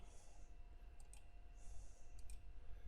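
Faint mouse clicks at a computer desk, about four or five short sharp clicks falling in two close pairs, heard alone over a low steady room hum.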